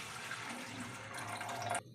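Water poured into a cooking pan holding tomato pieces and curry leaves for a semolina upma, a steady close splashing rush lasting under two seconds and stopping abruptly.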